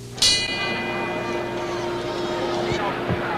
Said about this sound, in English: And now the bell for round 6.